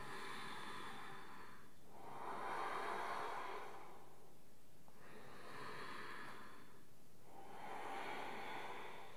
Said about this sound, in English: controlling the breathing in through the nose and up through the nose. Trying to slow the breath down